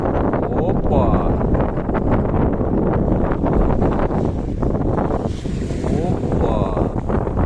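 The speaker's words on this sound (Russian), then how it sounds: "Да, волна большая." Strong wind roars across the microphone aboard a small boat leaving an island in a storm, with big waves splashing and sloshing against the hull, loud and continuous, as someone speaks now and then over the noise.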